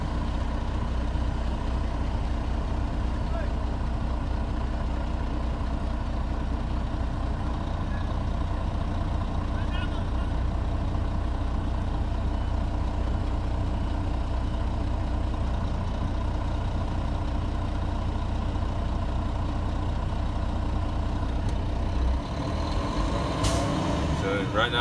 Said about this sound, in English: You should hear it hit the purge cycle.